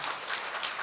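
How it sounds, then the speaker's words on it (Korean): Welcoming applause from a church congregation greeting visitors at a Trinity Sunday service, a steady, dense wash of many hands clapping close by with no pauses. "우리 교우들은 환영의 박수로 우리 맞이합니다"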